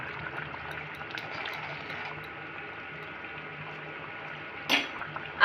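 Vegetarian jackfruit curry with asafoetida simmering on a medium gas flame gives a steady, soft bubbling hiss with light gurgles and a brief louder splash near the end.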